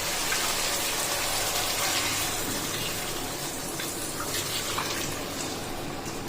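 Tamarind broth pours into a pan of simmering Nellore-style fish curry, a steady close gushing, splashing wash that runs continuously without any talk.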